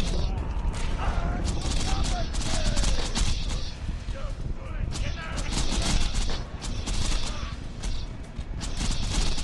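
Dual-wielded Unkempt Harold guns fire in Borderlands 2, dense rapid bursts of shots and mechanical clanks repeating throughout, with game effects and a voice talking over them.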